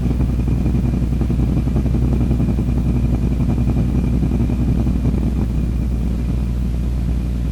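A car on a short drive up to a football training camp, its engine a steady low drone and rumble from inside the cabin, with faint road clatter throughout and no talk.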